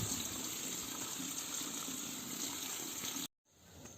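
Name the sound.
small stream of water flowing into a tank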